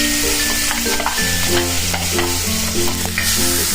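Loud, steady sizzling of green chili paste frying in hot oil for mango chutney, with a spatula scraping and stirring, and tonal hums from something nearby throughout.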